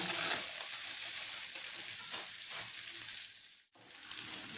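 A sabudana thalipeeth dropped onto an oiled pan sizzles loudly and steadily at close range, with a brief dip in the hiss partway through before the frying resumes.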